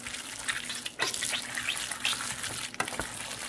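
Heavy cream being stirred into boxed mac and cheese, a wet squelching, sizzly mixing noise that carries steadily for a few seconds with brief dips, close up and alone.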